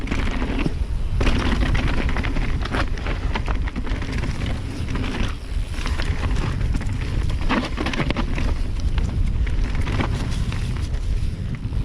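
Strong wind buffets the microphone on a mountain bike ride on a Nukeproof Mega 290, a loud, constant roar mixed with tyre and trail rattle throughout, no talking.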